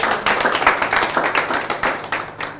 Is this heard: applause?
yes